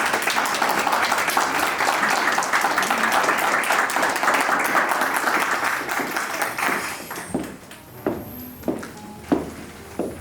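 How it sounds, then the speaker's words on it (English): An audience at an International Women's Day celebration for African women in Sweden applauds, dense clapping sustained for several seconds and then thinning to a few scattered claps. "Please give her a round of applause."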